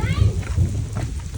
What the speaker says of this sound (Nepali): यहाँ हिउँ हो कि असिना हो कि बवाल पर्यो